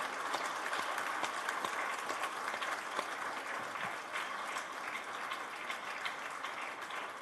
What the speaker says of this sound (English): he really deserves a standing ovation from you. I request all of you to stand for 2 minutes and clap.